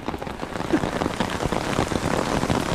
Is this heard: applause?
no